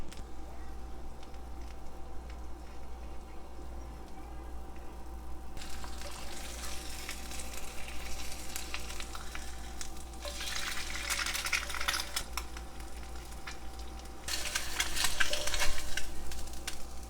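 Sausage and egg frying in a pan on an emergency power-outage stove, a steady close sizzle and crackle over a low hum, growing louder and busier toward the end, no speech.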